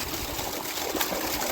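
Water pours from a running motor pump into a well in a steady, rushing gush that stays even and fairly close throughout.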